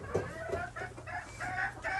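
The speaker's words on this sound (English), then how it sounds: "Look at all these chickens in here." Chickens settling into a new coop, several hens clucking and murmuring close by in overlapping, irregular calls, with no people talking.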